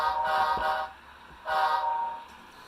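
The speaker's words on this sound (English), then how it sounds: "Usually a shave and a haircut for horn sequence is this." A model train horn on a layout sounds the shave-and-a-haircut pattern, heard as two sustained, bright, chord-like blasts separated by a short gap, fairly loud and close with nothing else over them.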